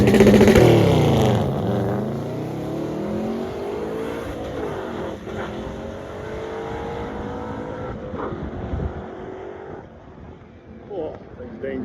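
A 1956 four-door Chevy drag racing down the quarter mile, its loud engine sweeping up through the gears with rising and falling whines, then fading as the car pulls away, with a voice briefly audible.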